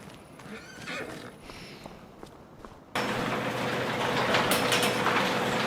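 A horse in the video game Farming Simulator 25 on PS5 gives a short whinny early on. A louder, steady, broadband rushing noise then takes over and masks most of what follows.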